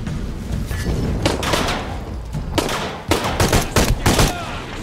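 Rapid bursts of gunfire and heavy grenade blasts from the video game Shadow of the Tomb Raider crowd together in a loud, chaotic combat sequence, with several sharp, booming impacts in quick succession and no talk.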